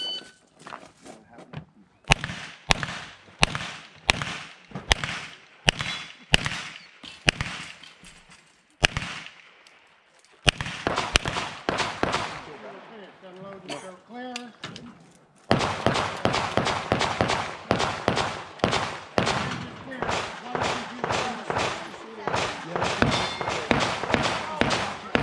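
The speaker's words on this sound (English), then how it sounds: "I missed! I had to shoot it twice." Rapid pistol gunshots at an IPSC shooting match, a series of sharp, loud cracks in quick strings with short pauses, then a dense burst of many shots in close succession from nearby competitors.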